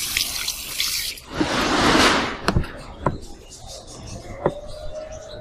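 Water pours and then drips while a freshly repotted Dracaena reflexa (Song of India) houseplant is watered in its pot: a short rushing splash followed by a few scattered, close drips, with no talking.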